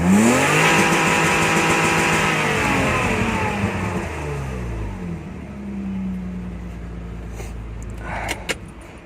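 A BMW E34's engine revs hard and accelerates up through the range, loud and close, then drops back to a lower, steady drone before a few faint clicks near the end.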